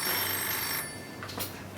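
A phone rings in a quiet room during an intimate conversation, its electronic tone repeating close and clear for nearly two seconds, with no one speaking over it.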